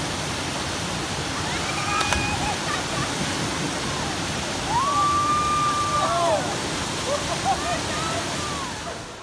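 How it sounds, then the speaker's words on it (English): Dismal Falls, a waterfall roughly 15 feet high on a river, pours with a constant broadband rush, close and steady, while faint voices and a brief whistle-like tone sit in the background. "we're here at Dismal Falls. It's a nice river. A bunch of us are here, and it's probably about 15 foot or so falls"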